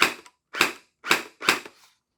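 Four sharp single shots from a Hydro Strike Pulsar Pro gel blaster, evenly spaced about half a second apart, each a crisp snap with a short mechanical tail.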